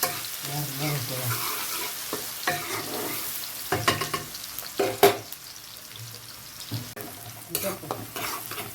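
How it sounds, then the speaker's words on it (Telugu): Chopped onions fry in a pan for a chicken fry, with a soft, continuous sizzle up close. Stirring scrapes and clinks break in now and then, and no one talks over it. "ఉల్లిపాయలు బాగా వేగాలి."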